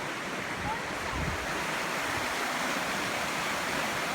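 Fast, deep floodwater rushes beneath a bridge after a heavy storm, a steady broadband roar that stays loud and unbroken throughout.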